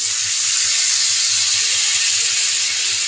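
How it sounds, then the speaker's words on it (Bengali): Spiced water hits frying masala in a pan and sets off a loud, steady hissing sizzle with bursts of steam, filling the whole moment with no voices. "এবার আমি একটু মশলা দেওয়া জলটা দিয়ে দেবো"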